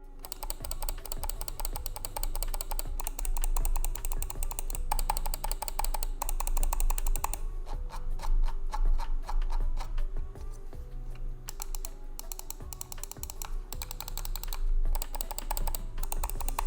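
A lightweight budget gaming mouse clicks quickly and steadily for a sustained stretch. The sharp, dense clicks are close up over a low background hum, with no talking.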